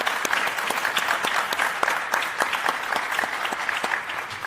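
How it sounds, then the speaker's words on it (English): Sustained applause from an audience thanking an all-star panel at a sports diversity event, dense steady clapping with no speech over it. "Give them a big round of applause"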